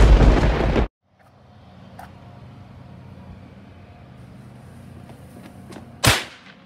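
Fireworks go off in two sharp, loud bursts: a harsh blast at the start that cuts off abruptly, then a quiet low rumble, then a second crack near the end.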